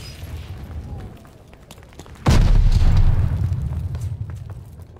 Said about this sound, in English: Tossing grenades!